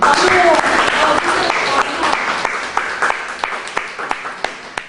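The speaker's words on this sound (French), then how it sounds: "nous pourrions décider de clore cette séance en vous applaudissant" A seminar audience claps at the close of a session: a dense burst of applause with voices that thins out into a few scattered, sharp individual claps.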